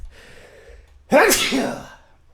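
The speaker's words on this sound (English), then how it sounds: "Sorry, I just sneezed." One sharp, close sneeze erupts after a faint intake of breath and trails off in a breathy release.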